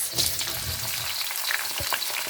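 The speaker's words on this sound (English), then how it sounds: "So we're gonna put that in there and fry it up" Broccoli and onions frying in hot oil for beef and broccoli, a dense, loud continuous sizzle with a few stirring knocks, close up and without talk.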